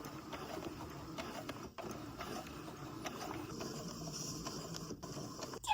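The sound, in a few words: sewing machine stitching through fabric and wood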